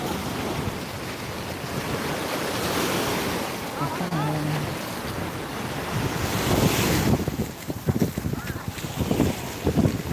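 Sea waves wash onto the shore at Tiruchendur in a loud, continuous roar with heavy wind buffeting the microphone, surging stronger in the later seconds, with faint voices mixed in.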